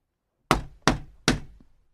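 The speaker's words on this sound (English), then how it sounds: "Finally, he knocked on the shop door." Three firm knocks on a shop door, evenly spaced and close, each a sharp thud that fades quickly into silence.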